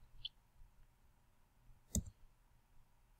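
A computer mouse gives a single crisp click, close and clear against near silence, with a fainter tick just before it.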